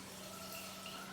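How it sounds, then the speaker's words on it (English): A soft, steady rushing hiss of an electric kettle heating water, quiet and continuous in the background. "You can hear the kettle going in the background,"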